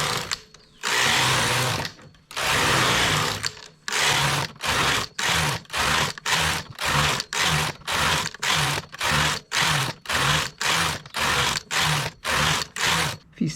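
A domestic knitting machine carriage runs back and forth over rows of medium-to-thick wool at tension setting 4, a steady train of loud, even mechanical sweeps with brief pauses between passes.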